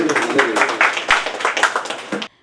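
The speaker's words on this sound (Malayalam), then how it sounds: "നല്ലൊരു കയ്യടി നല്ലൊരു കയ്യടി നിങ്ങൾക്ക് തന്നെ" An audience claps continuously for about two seconds at a prize draw ceremony, a dense patter of many hands at close range, then stops abruptly into silence.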